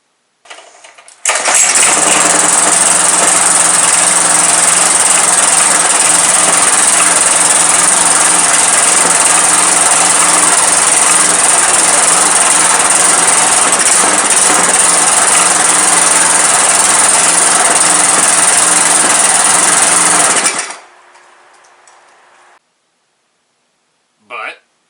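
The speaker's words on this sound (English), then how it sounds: "I rebuilt the engine 3 times, and the engine does run." Rebuilt engine from an old restoration project running with a loud, buzzy, steady drone close by, kicking in abruptly, holding constant for about twenty seconds, then cutting off, followed by quiet.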